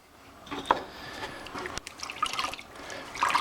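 Water poured onto old masonry around a chimney thimble to wet it before concrete goes in, a close, steady trickle and splash with a few louder drips, no talk.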